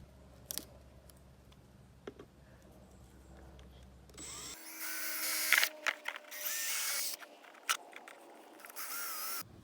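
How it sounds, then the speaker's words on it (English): A power drill bores drain holes into a plastic worm farm bin, with a few early clicks and handling noises, then loud bursts of high whining drilling, close up and without speech. "I just drilled these drain holes so the worms don't drown."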